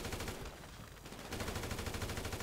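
Sustained automatic gunfire in GTA 5, a steady stream of quick rattling shots that pauses briefly and then resumes, fairly faint and with no voices.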